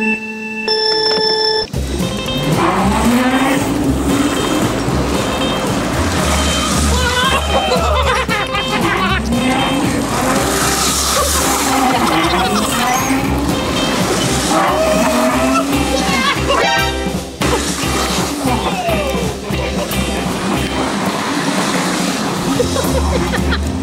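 Go-karts on a 200cc final race of a real-life Mario Kart event whine and buzz loudly and continuously, with engines rising and falling as they pass, plus skids and people shouting and laughing over them.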